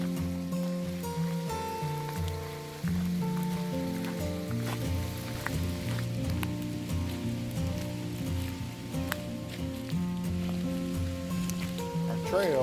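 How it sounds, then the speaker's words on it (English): Steady rain from a summer thunderstorm falls on a hiking trail as a continuous, moderate hiss, heard under a sustained tonal background with faint voices. "You can hear the rain a hit coming down."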